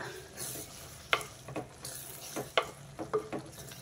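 A spoon stirs gongura and chana dal curry with freshly added coriander in a pan: faint sizzling underneath, with scattered scraping strokes and a few sharp metallic clicks against the pan, fairly quiet.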